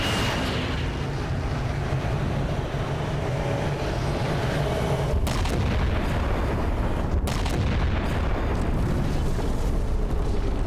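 Starship weapon fire in the Halo 4 video game, a heavy sustained booming rumble with deep roaring low end and a few sharper blasts partway through, loud and continuous without talk.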